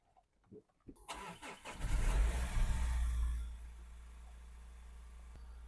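A diesel Mazda CX-5 is cranked and fires up, its engine surging loudly for a couple of seconds before dropping to a steady, lower idle that carries on alone.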